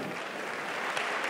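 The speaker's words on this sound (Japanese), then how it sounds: "今一度盛大な拍手をお願いします。" A crowd at a RISE kickboxing event applauds in a dense, continuous wash of clapping from across the arena. The sound is moderately loud and steady.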